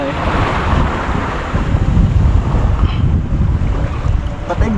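Rough, continuous wash of sea waves and water against a moving boat, with steady wind buffeting the microphone throughout.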